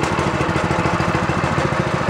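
A Harbor Freight Predator small engine idles on a go-kart with a steady, low, throbbing putter and an even, rapid pulse. It sounds close and moderately loud, with no talking.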